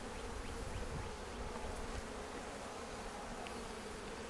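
Bees buzz in a dense, steady drone at a bee yard in a rural conservation area, loud and continuous with no voices.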